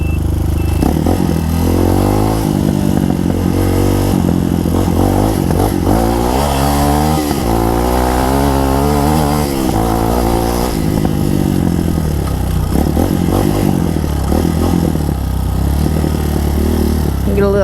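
A 2021 Tao Motor TBR7 dirt bike roars steadily on a test ride, with the engine revving up and down and some rattling clatter. The sound is loud and close, with wind noise throughout.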